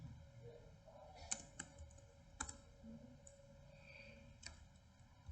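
Keys tapped on a computer keyboard in quick, uneven bursts of clicks, close and fairly quiet, with no voices over them.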